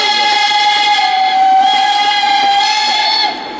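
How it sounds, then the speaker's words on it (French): A loud, sustained steam locomotive whistle on the Train du Vivarais blows a steady chord-like tone with hissing, then cuts off near the end. "Vous avez la chance d'avoir un concert de sifflet aujourd'hui."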